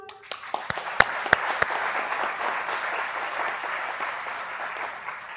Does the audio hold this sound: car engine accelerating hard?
no